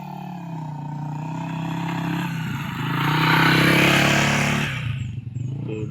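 A motorcycle passes along a rural uphill road in Albay, its engine drone rising to a loud peak near the middle and then fading as it moves away.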